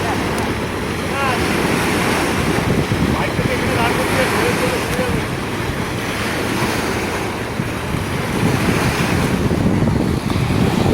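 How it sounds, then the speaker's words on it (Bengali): Waves from a cargo ship's wake churn on the Ganges, a continuous loud wash of surf and splashing water with wind buffeting the microphone throughout. "ওই দূরেও পাড়ের দিকে শুরু হয়ে গেছে ঢেউয়ের তাণ্ডব।"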